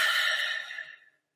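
A single deep breath during a breathing exercise, an airy exhale that fades out over about a second, close and quiet.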